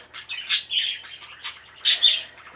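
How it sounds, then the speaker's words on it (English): Pet budgies chirping indoors nearby, a string of bright, sharp chirps and warbling tweets in irregular bursts, a couple of them louder and shriller. "they are noisy little budgies"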